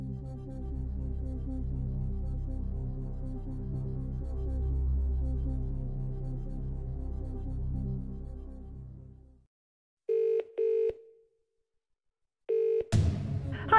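Phone-a-friend lifeline call in a Who Wants to Be a Millionaire DVD game: a tense musical bed fades to silence, then two short electronic telephone tones sound, the second ending in a sharp click.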